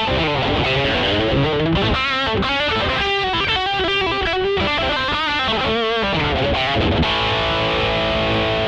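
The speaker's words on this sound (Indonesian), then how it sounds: "itu distorsi, saya tambahin booster lead ya." Electric guitar played through an RPM pedal's distortion with the lead booster engaged, loud and saturated with sustained chords and bending notes filling the whole clip, no talk.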